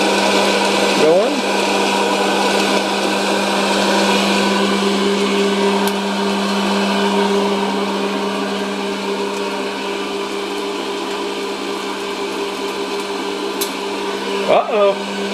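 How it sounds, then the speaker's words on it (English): Hot air popcorn popper whirring in a steady, loud hum with a constant drone, running unbroken beside a stirring popper while voices talk over it, with a few faint clicks near the end. "The hot air popper is going."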